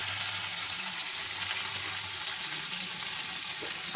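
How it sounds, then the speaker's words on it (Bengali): Chopped onion, tomato and garlic hitting a hot wok, a loud, steady close sizzle and hiss of frying that holds evenly throughout, with no voices. "আমি এখানে পেঁয়াজ কুচি, টমেটো কুচি আর রসুন কুচিটা আমি দিয়ে দেবো কড়াইয়ের মধ্যে।"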